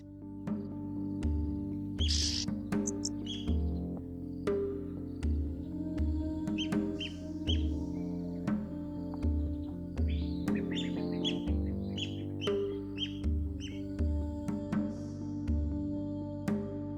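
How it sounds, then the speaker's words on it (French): Oxpecker birds chirp near a group of hippopotamuses: repeated short, bright calls, fairly close, over a soft low rhythmic background thump. "un de ces oiseaux vient de se poser sur son dos"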